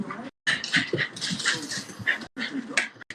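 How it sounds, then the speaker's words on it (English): A dog whimpers and yips in short, high, whiny bursts with brief pauses between them. It is fairly close and moderately loud indoors. "None of y'all can hear my dog, can you?"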